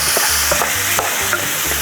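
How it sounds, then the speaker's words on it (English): Sausage added back into a skillet with onions, a close, loud, continuous sizzle with quick stirring clatter on top. "I'm gonna go ahead and add the sausage back into this skillet here."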